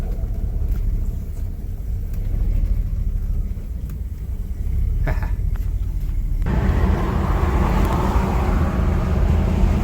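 A Chrysler Newport engine rumbles steadily, then the sound brightens and grows louder as the car gets under way, a continuous road roar with no voices.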